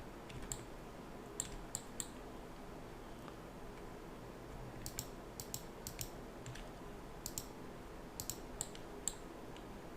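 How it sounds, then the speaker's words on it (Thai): A computer mouse clicks while someone models in 3ds Max. Light, sharp clicks come singly and in quick pairs, scattered across a low, steady room hum, faint and close, with no voices. "เราก็คลิก ค่อยๆคลิกขึ้นไปแบบนี้นะครับ"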